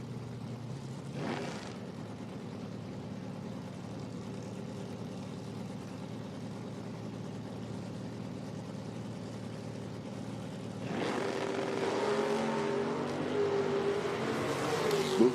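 At an IHRA Outlaw Nitro Series drag race, a 1970 big-block Chevelle and a stick-shift 1966 Nova launch off the starting line: a steady engine rumble idles, then jumps into a loud, sustained roar about two-thirds through.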